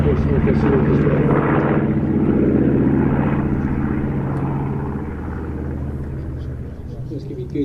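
A propeller warplane flies past at an aviation show, its steady droning rumble loud and sustained throughout, easing slightly toward the end.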